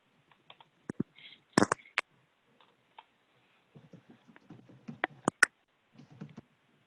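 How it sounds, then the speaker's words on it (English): Someone types on a computer keyboard, producing sparse, irregular clicks and short bursts of keystrokes close by in an otherwise quiet room. "I was typing a response to the chat."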